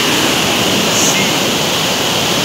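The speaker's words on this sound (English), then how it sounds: "So you can see the raw power of the river." Powerful Bhalla River water rushes in a dense, continuous roar, loud and close, with no let-up across the moment.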